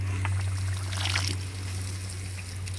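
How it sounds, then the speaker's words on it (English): Water flows from a newly installed hot and cold hose bib as the cold side is tested, giving a steady, close hiss and trickle with a strong low hum underneath and no talking. "turn on the water."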